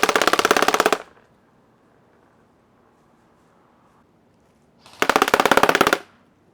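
A KWA KM4A1 airsoft AEG rifle fires .25 King Arms BBs in two loud, rapid full-auto bursts of about one second each, separated by several seconds of near silence.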